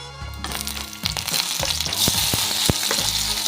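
Maggi noodles sizzle loudly in a hot pan while being stirred, with steady frying hiss and scattered scraping knocks from the spoon close by.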